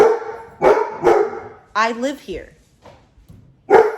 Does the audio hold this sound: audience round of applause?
no